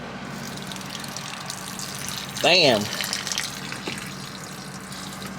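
Water drains through a manual dump valve in a skoolie's plumbing system, a steady, close rushing flow broken midway by a brief spoken exclamation.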